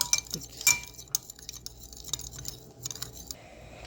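A spoon stirs a mustard oil sauce in a pan, giving faint, scattered clinks and light scraping, with no talk.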